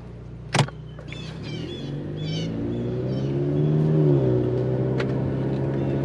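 A Ford Mustang EcoBoost with a homemade cold air intake drives off, its engine hum rising and shifting in pitch as it accelerates, with a short knock near the start and no talking.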